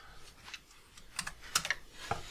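Keys on a computer keyboard are pressed while working in Blender 3D modelling software: a few soft, separate clicks, close and fairly quiet, with no talking.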